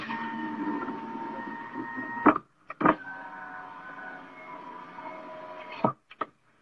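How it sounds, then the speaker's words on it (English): Electric power window on a car, its motor whirring steadily as the glass moves, then briefly cutting out with a couple of clicks before whining again and stopping near the end. "car window opening"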